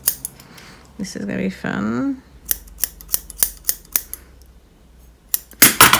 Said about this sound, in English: Let's just see if I can cut the fabric and not the fur.